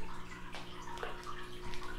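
Water pours steadily into an aquarium tank being filled, a continuous rushing, splashing flow with faint drips and gurgles throughout.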